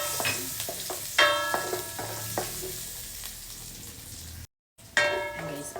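Garlic fries in a hot pan while a utensil stirs, giving a close sizzle with sharp clinks of metal against the pan; the sound cuts out briefly, then resumes louder.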